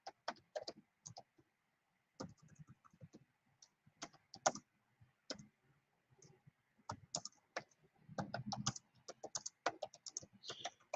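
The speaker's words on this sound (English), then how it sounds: "I'm typing you a message in the comments." Typing on a computer keyboard during a live writing session, with close, quiet bursts of key clicks separated by short pauses and a denser, faster flurry near the end.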